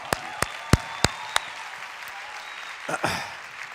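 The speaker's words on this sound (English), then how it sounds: "give them a round of applause." Audience applauding for a panel, opening with a few sharp, evenly spaced loud claps up close, then a softer spread of clapping and voices toward the end.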